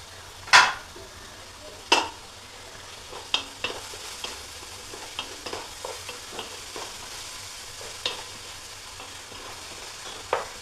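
A spoon stirs and scrapes through prawn roast masala sautéing in a pan, with sharp clacks against the metal and softer scraping strokes over a faint, steady sizzle.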